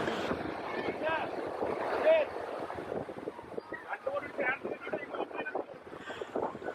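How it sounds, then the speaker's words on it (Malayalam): A boat returns to shore at Kozhikode beach, with its engine and water noise rising and falling under strong wind buffeting the microphone. Voice-like sounds are mixed into the steady background. "ആദ്യം യാത്ര പോയ ബോട്ട് തിരിച്ചെത്തിയിട്ടുണ്ട്."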